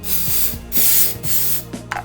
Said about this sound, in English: I'm just gonna spray these things down with the gun scrubber